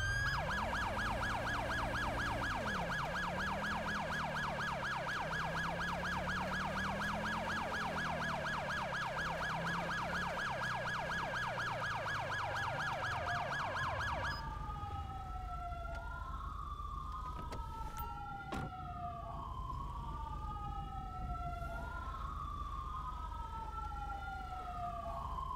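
Emergency vehicle sirens in GTA V blare loudly and continuously: first a rapid electronic yelp over a low air-horn drone, then a slower rising-and-falling wail that sweeps in steady cycles.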